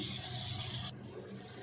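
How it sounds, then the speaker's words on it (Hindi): Water poured into a pot of mixed winter vegetables, a bright splashing rush that runs for about a second and then cuts to a quieter bubbling fill. "अब इसमें पानी डाल देंगे।"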